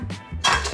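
Eggs cracked against a chopping board, two sharp knocks a moment apart, the second louder and fuller, close up with no voices.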